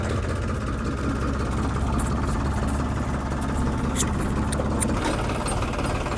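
A tractor engine chugs steadily close by, a low rhythmic rumble that runs without pause throughout, with faint clatter on top.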